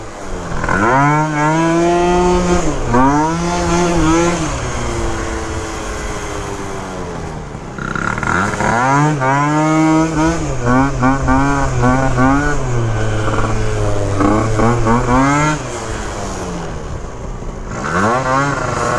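Phantom F12 scooter with a horizontal Polini Minarelli engine revving hard through several rising, whining sweeps. The engine is loud and close, with a brief dip in the middle before it climbs again.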